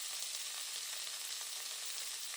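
Onions frying in oil in a pan for a Kenyan-style beef stew, a steady, even sizzle that holds at one level with no talk over it.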